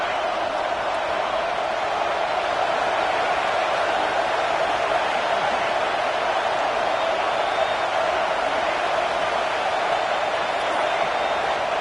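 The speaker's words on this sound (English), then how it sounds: "Listen to the crowd energy here in the early going." A college football stadium crowd in Michigan roars as a broad, steady wash of noise, loud and unbroken, with no distinct voices standing out.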